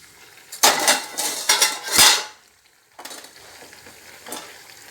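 Fish pieces and spice paste hitting a hot pan, with bursts of loud sizzling and utensil clatter in the first two seconds, then a quieter steady frying hiss with occasional stirring scrapes.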